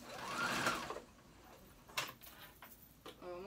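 A sewing machine top stitches a double line of stitching around a hoodie, running in a steady whir for about a second, then giving a few short, separate bursts of stitching with small clicks between them.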